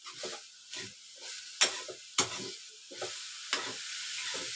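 Grated coconut and jaggery stirred in a pan over low heat, a soft steady sizzle broken by repeated scraping strokes of a spoon against the metal at an uneven pace.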